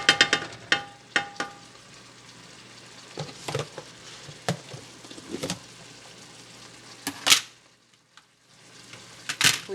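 Shrimp heating through in hot oil and butter, a steady soft sizzle broken by sharp clicks and pops of stirring, close and alone without talk.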